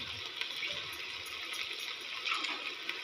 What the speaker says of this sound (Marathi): त्याच्यामध्ये आपण पाणी टाकून घेणार आहोत